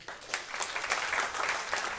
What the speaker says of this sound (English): Can we give God a clap for that?